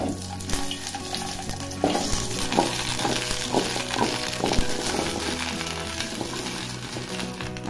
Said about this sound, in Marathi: आता ह्याला तेलावर असं परतून घेतलेलं आहे, जसं पकडीने असं हलवून परतून घेतलेलं आहे